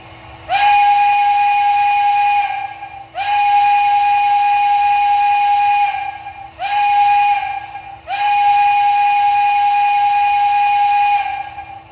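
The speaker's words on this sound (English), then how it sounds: "It's got a very loud banshee whistle, which was very prototypical for Pennsylvania." A loud, shrill banshee steam whistle on an MTH Pennsylvania Railroad Mikado model steam locomotive blows four times in long sustained blasts with short breaks between them, close and dominant with little else around.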